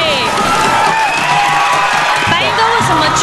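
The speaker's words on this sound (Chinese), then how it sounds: "掌声鼓励鼓励。" Audience applause and cheering at a middle-aged men's sports day contest on a TV variety show, a dense steady wash of clapping and crowd noise throughout.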